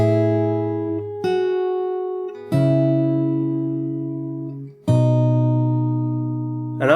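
Fingerstyle acoustic guitar plays a song part slowly, with a handful of ringing chords plucked one at a time, each left to sustain and fade before the next, clear and close with no voices.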